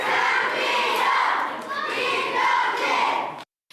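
A crowd cheering 18-year-old forward Yang Min-hyuk in Gangwon, loud sustained shouting and children's excited voices, close and continuous, then cut off abruptly.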